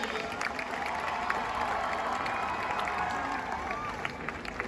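A crowd at a welcome ceremony in Lucknow honouring Olympic champions, distant applause and scattered cheering rolling on as a steady, fairly faint wash in a large venue, with a voice over a loudspeaker now and then.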